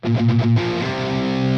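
Distorted electric guitar plays the bridge riff from a song: a few chugging, palm-muted notes give way to a sustained, ringing chord, loud and close, with no talking.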